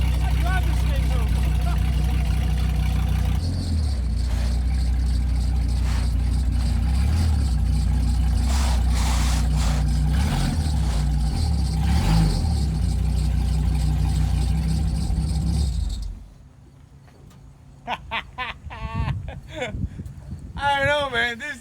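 Steady, loud engine rumble of the Dodge Demon truck as it is driven home, continuous and close, with a voice talking over it before the engine noise drops away near the end.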